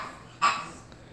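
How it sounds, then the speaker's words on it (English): A pug gives a single short, bleating bark that sounds like a goat, close and fairly loud against a quiet room, followed by faint stillness. "Apparently that's Peggy's bark. She thinks she's a goat"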